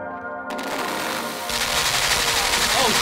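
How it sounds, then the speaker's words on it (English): Rapid machine-gun fire bursts out loudly in the dark puzzle-platformer game Limbo, a dense continuous rattle that grows harsher partway through. "That thing just shot me! Why is there a machine gun here?"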